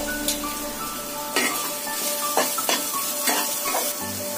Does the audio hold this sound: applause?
no